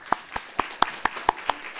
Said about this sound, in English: Could we have a round of applause?